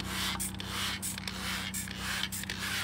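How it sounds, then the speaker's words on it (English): Simple Green cleaner is sprayed onto a dirty truck wheel in short, close hissing bursts, about four quick pumps spaced evenly over a steady background hum. "I'm going to spray down the wheel here"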